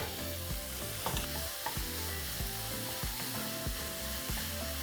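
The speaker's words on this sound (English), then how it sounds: "We're going to break down our meat and allow it to brown." Ground beef browns and sizzles in a pan, with a steady crackle and repeated scraping stirs as the meat is broken apart, close and continuous with no talking.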